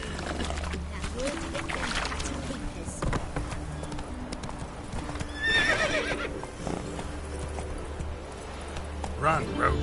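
Roach, a horse in The Witcher 3: Wild Hunt, gallops with steady clip-clopping hooves and an occasional whinny, heard up close under game voices and background music.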